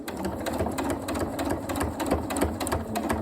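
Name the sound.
sewing machine back stitching a cushion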